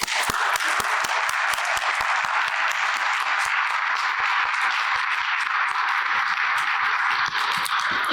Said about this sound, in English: Please give a warm round of applause for Anna Capel.